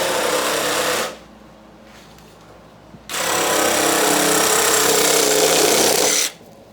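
A Ryobi power tool cuts in two loud, steady buzzing bursts close by, the first about a second long and the second about three seconds, with a quiet pause between them.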